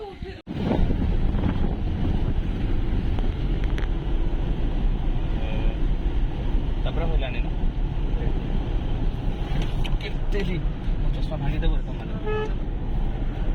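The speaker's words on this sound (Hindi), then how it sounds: "पवन बहुत जोर से बाड़े" Strong wind buffets the microphone beside the lake at Satapada on Chilika, a steady loud roar filling the whole stretch, with faint water and vehicle sounds mixed in under it.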